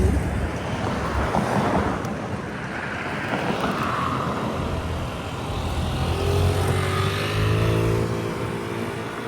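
Road traffic in Ras al Khaimah, with many cars passing in a steady whooshing stream and a couple of louder vehicles sweeping by near the end, all under a constant background roar.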